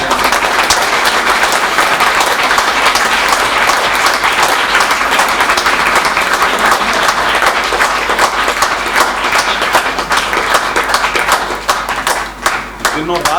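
A ceremony audience bursts into loud, dense, sustained applause to honour a man called up on stage, the clapping thinning out and tapering near the end.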